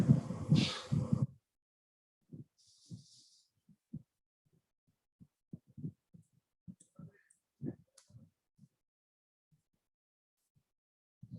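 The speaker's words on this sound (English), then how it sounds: "I'm clicking on the save button" A computer mouse is clicked on a save button during a file-upload task, with a scattered series of faint, sharp clicks at an irregular pace in a quiet room, after a brief louder rustle at the start.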